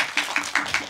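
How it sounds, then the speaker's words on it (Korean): Audience applause at a Busan International Film Festival 2021 session, with bursts of clapping rising and falling in waves, moderately loud, no talking over it. "크게 박수 한번 부탁드립니다."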